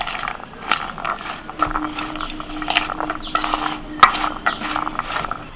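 Sweet corn kernels are mixed in a bowl with spices, flour and cornflour, producing irregular scraping and clinking of a utensil against the dish with soft rustling in between, close and moderately quiet, without speech.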